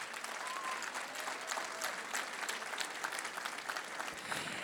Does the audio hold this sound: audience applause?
yes